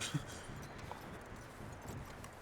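Faint, soft hoofbeats of a horse clip-clopping in the Red Dead Redemption 2 video game, a quiet irregular patter under low background ambience.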